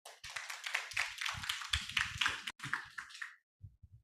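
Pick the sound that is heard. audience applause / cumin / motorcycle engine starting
audience applause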